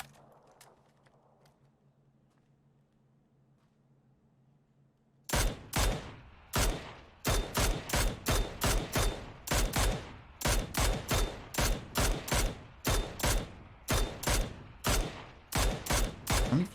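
After about five seconds of near silence, PUBG gunshots break out as a long, steady string of sharp, loud single cracks in quick regular succession, close and unaccompanied by talk.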